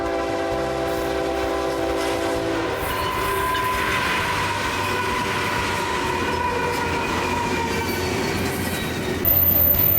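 A Z Stow WSP freight train rounds a curve at speed, its horn blaring in long sustained blasts over a heavy, continuous rumble of wheels and cars, loud and close throughout the passage.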